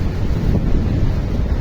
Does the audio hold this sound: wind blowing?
yes